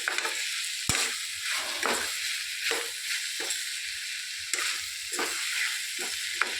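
Broad beans (chikkudukaya) and green chilli fry in a pan with a steady, close sizzle. Repeated stirring scrapes come every second or so, and no one talks.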